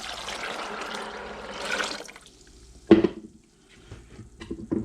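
Pork broth is poured into a pot in a kitchen, a soft liquid splash and trickle for about two seconds, followed by a sharp clank and faint handling noises.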